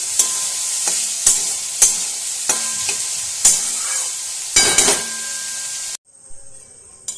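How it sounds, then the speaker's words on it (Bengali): Chopped onion stirred in a hot oiled pan for a soybean momo filling, giving a steady sizzle and a few loud scraping strokes of the spatula close up. The frying stops abruptly near the end. "বানাচ্ছি সয়াবিন মোমো তো এবার দিয়ে দেব কুচি রাখা পেঁয়াজটা আবার ভালোভাবে নাড়াচাড়া করে নিচ্ছি"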